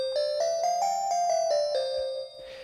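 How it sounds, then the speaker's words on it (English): Vital synthesizer bell tones in a Silent Hill style chime in a steady descending sequence of about eight strikes, each ringing with bright overtones, before fading into a hiss. "Then some Silent Hill kind of bells."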